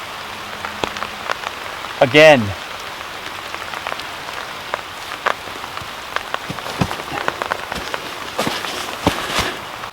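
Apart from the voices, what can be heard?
rain falling on woodland shelter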